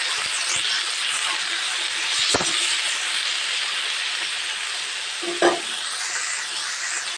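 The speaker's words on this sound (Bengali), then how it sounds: "এখানে এবার কচুরলতিগুলো দিয়ে দেব। লবণ দিয়ে দেব, দিয়ে এটাকে ভালো করে নেড়ে দেব।" Taro stolons are stirred with salt in a hot frying pan, giving a steady soft sizzle and hiss with a few brief scraping clinks of the spoon against the pan.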